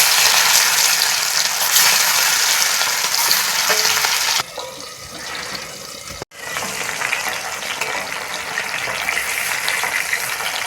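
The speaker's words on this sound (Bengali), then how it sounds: "তেল তো গরম হয়ে গিয়েছে, তো এখন মাছগুলো দিয়ে দেব।" Bogo fish frying in hot mustard oil in a home kitchen, a loud, dense, continuous sizzle close by that drops briefly midway with a sharp clatter, then resumes strongly, with no talking.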